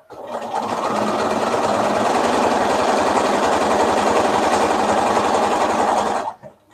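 A sewing machine chain-pieces charm squares for a quilt, running loud and continuous with a rapid, steady needle rhythm for about six seconds before stopping abruptly.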